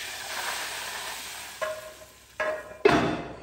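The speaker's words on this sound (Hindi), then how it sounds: "तो ये तड़का डालूंगा ना, फौरन हमने ढक्कन को बंद कर देना है।" Hot tadka tempering poured into cooked moong dal sizzles in three sharp hissing bursts over a quiet kitchen background, the last burst loudest and briefest.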